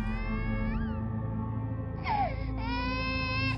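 A young child screams and wails in long, high, strained cries with brief pauses, over a constant low rumble of background noise.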